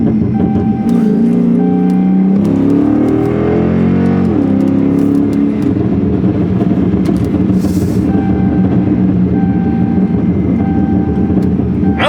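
Chrysler 300 with a stage 1 burble tune, engine and exhaust droning loudly and continuously with rising revs and a rough, crackly undertone throughout.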